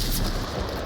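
A frag grenade blast inside the Onward VR shooter, a dense, loud burst of broadband rumble and crackle filling the whole short moment, with no voices heard.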